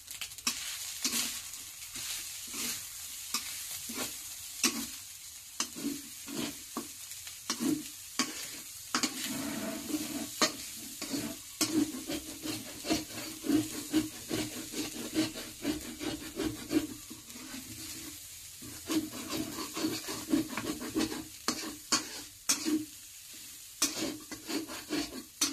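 Vegetable and egg fried rice with carrot, spring onion and sausage stir-fried over low heat in a non-iron pan: a continuous sizzle broken by repeated scraping and tossing strokes of a spatula, close and fairly loud, with no talking.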